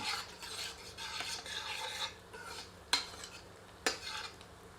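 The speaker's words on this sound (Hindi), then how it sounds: "प्याज को तब तक भूनते हैं जब तक कि प्याज स्वर्ण आभा से परिपूर्ण नहीं हो जाती" Onions sizzling as they fry, with scraping and rubbing strokes of a utensil in the pan, plus two sharp clinks; steady and close, no voices.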